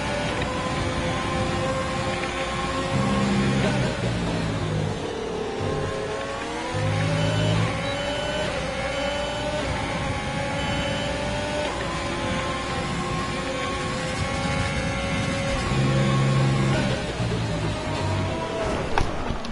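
A Formula 1 car engine in the racing video game F1 2020 whines loudly and steadily, its pitch rising and falling with gear shifts and braking, with a few low lurches from other cars nearby.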